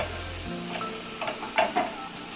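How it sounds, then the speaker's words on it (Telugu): Onions fry with ginger garlic paste in a pan, a low sizzle broken by a few short scraping stirs near the end. "ఆనియన్స్ ఫ్రై అవుతున్నప్పుడు కూడా వేసుకొని పచ్చివాసన పోయేంత వరకు ఫ్రై చేసేసుకుందాం"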